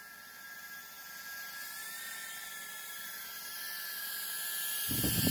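The stock motors of an Eachine E010 tiny whoop micro quadcopter spin up with a thin, high-pitched electric whine that rises steadily in loudness, ending in a louder burst of rushing air as it lifts off.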